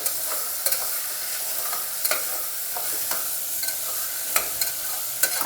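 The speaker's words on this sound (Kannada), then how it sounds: "ಬಟಾಣಿ ಕಾಳು ಹಾಕಿ ಚೆನ್ನಾಗಿ ಫ್ರೈ ಮಾಡ್ಕೊಳ್ಳಿ" Raw potatoes and green peas fry in a pan for palau. A steady, bright sizzle runs throughout, broken by sharp spatula scrapes and taps at irregular intervals, close and fairly loud.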